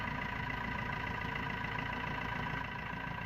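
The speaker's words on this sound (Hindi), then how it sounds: "तो इसके लिए पहले गाड़ी को स्टार्ट कर लें" Maruti Swift/Dzire car engine idling steadily after being started, a continuous low hum that stays even and unbroken throughout, with no talk over it.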